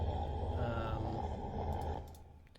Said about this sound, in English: There's this just like deep roar of the Cleric Beast.